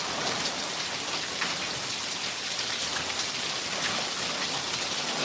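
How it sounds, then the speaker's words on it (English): Heavy rain with strong wind falling outdoors in Texas, a dense, continuous roar of drops on surfaces that stays loud and even throughout, with no voices. "we get some strong wind and heavy drops"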